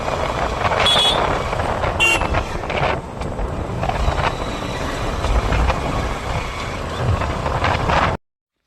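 Traffic on a mountain road through pine forest near Darjeeling: a steady rumble of cars and trucks going by close, heavily buffeted by wind noise, ending abruptly.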